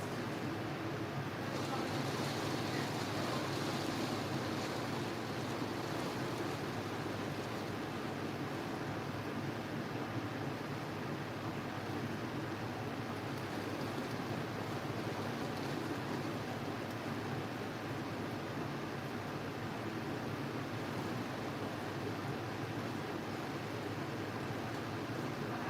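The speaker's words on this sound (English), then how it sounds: "This is like monsoon rain" Heavy monsoon rain pours down outside a home studio, a dense, steady roar of broadband hiss that stays constant and close throughout with no pauses.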